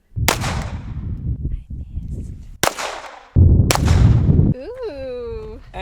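Sharp, loud gunshots at shooting practice, three distinct cracks spaced a second or so apart, each with a brief echoing tail, followed by a voice speaking.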